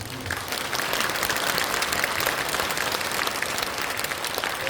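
Steady audience applause fills a hall at a Korean church prayer gathering after a formal statement is read, a dense, even wash of many hands clapping with no voices standing out.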